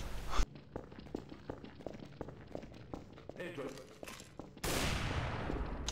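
Gunfire in a prison-themed video game: quick sharp shots and clattering impacts scattered throughout at moderate level, ending in a loud broadband rush, with excited talk over it.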